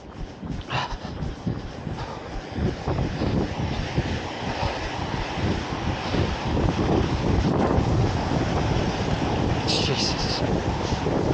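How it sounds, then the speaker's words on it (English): Strong wind during an outdoor run, roaring and buffeting the microphone without a break, dense and loud throughout, with a runner's voice and breathing partly buried underneath. "So windy."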